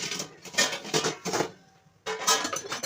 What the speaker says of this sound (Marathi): आता झाकण काढायचं